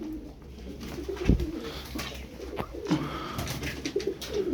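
Fancy pigeons coo repeatedly in low, throaty bursts, close by, over a steady background murmur of birds.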